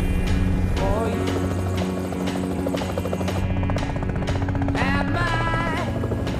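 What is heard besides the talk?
helicopter flying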